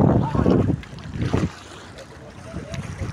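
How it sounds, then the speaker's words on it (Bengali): Gusty wind over the wide Padma river buffets the microphone in strong waves, with faint water and a brief murmur of voices in the background. "নদীর হাওয়া আর নদীটা দেখার জন্য খুব সুন্দর বাতাস"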